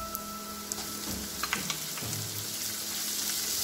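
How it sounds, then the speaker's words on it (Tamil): Finely sliced large onions sautéing in oil for a prawn gravy, a steady soft sizzle with a few light stirring clicks, fairly faint throughout. "அதனால இதை நல்லா வதக்கி எடுத்துக்குவோம்."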